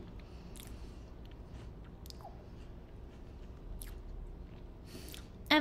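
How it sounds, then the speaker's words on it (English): Someone chews and bites into a s'more of toasted marshmallow, milk chocolate and graham crackers, with soft, squishy mouth sounds close up over a quiet background. "I'm really enjoying this, as you can tell"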